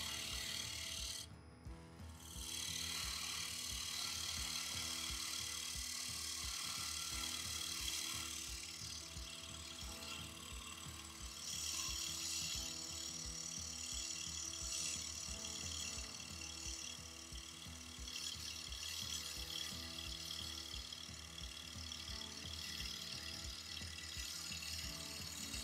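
A freshly sharpened 3/8 bowl gouge makes a final finishing cut on a silver birch bowl spinning on a woodturning lathe, giving a steady, close scraping and cutting noise over the motor's hum for the whole stretch, with no talking.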